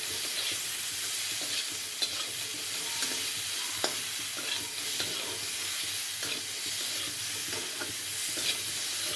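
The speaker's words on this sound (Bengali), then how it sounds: "একটু ভাজা ভাজা করে নিতে হবে।" Mango pieces with mustard, salt and turmeric fry in a pan for a Bengali mango jhol, giving a steady close sizzle broken by repeated scraping stirs, with no talk.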